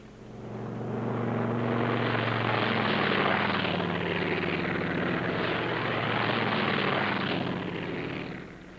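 A military aircraft squadron takes off, a deep engine drone swelling up from quiet, holding loud and steady with a rumbling low end, then easing slightly at the close.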